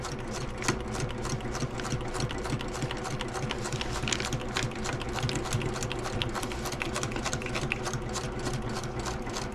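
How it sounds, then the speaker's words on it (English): A sewing machine runs steadily for the whole stretch, stitching greenhouse sandbag fabric with a continuous close mechanical whir and rapid needle clatter, with brief lock-stitch reversals and no talking. "I'm gonna put my needle down, put the foot down, do a lock stitch"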